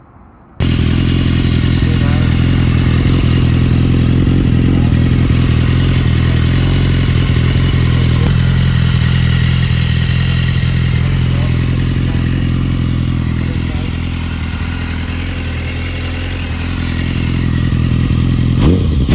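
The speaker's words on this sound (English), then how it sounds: "We're just doing a small exhaust note comparison" A BMW HP4 motorcycle idling loud and close, a steady deep exhaust rumble with a slight dip in revs near the end before it settles back, running alone for about nineteen seconds.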